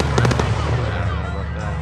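July 4th fireworks crackle and pop in rapid bursts at a distance, layered over steady background noise from an outdoor setting with faint voices.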